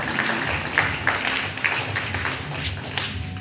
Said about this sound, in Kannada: ಅವರನ್ನು ಚಪ್ಪಾಳೆ ತಟ್ಟುವ ಮೂಲಕ ಸ್ವಾಗತವನ್ನು ಕೊಡೋಣ